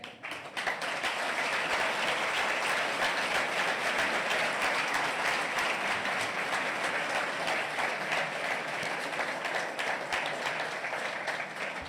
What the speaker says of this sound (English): Can we please have a round of applause to everybody?